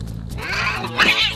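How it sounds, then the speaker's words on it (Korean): Two rescue cats in a standoff let out a drawn-out, wavering caterwaul, a loud close yowl that rises and swells toward the end. "대치 중인데요, 고양이 둘이서."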